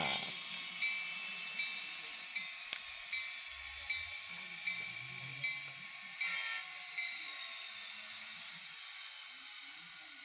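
An N scale model train rolls in with a high, steady metallic whine and hiss, soft clicks and bumps of the cars underneath.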